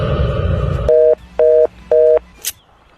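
A phone call rings out with three evenly spaced, steady beeps of the ringback tone, each lasting about a quarter second, clear and close. The beeps follow a stretch of background noise, and a short burst comes after them.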